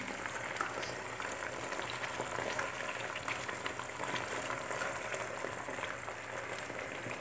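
An egg fries in a pan with its yolk broken so it cooks firmer, giving a steady, soft, dense sizzle and crackle that holds evenly throughout, fairly quiet and close, with no talk over it.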